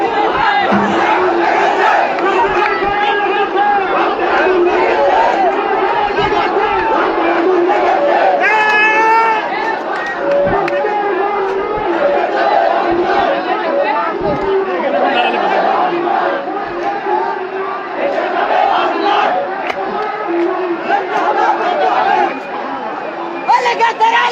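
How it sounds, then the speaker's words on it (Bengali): Students and members of the public in a Gaibandha market area shout slogans at security forces, a dense crowd chanting loudly and steadily over a continuous roar of mixed voices. "তাদেরকে লক্ষ্য করে আসলে ভুয়া স্লোগান দিচ্ছে ছাত্র জনতা"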